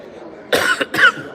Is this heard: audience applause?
no